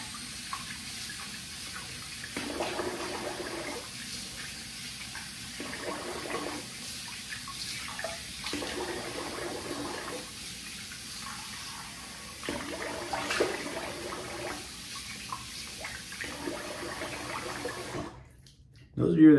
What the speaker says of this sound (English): I am gonna rinse the face.